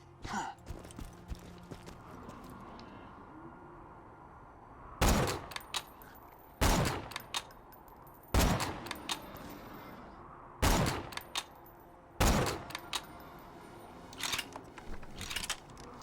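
Sniper rifle shots in Borderlands 2: about five sharp, loud cracks spaced a couple of seconds apart, each followed by a short mechanical rattle, with fainter game sounds in between.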